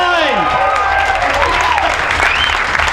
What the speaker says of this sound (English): we've got to have a round of applause for that